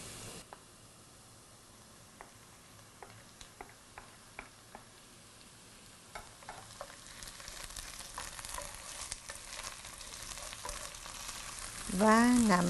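Spinach frying in a pan with onion and jalapeño: a faint, steady sizzle with scattered soft stirring clicks, growing denser and louder toward the end, with no talk.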